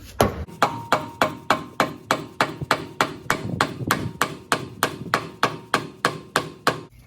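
Steady hammer blows drive a part into a Currie RockJock Antirock sway bar during installation, about twenty sharp, evenly spaced metallic strikes, close and loud, with no talking.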